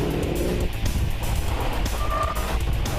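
A BMW X6 SUV accelerates hard, its engine a loud steady roar with rising tones and a faint tire squeal, heard from inside or close by with no talking.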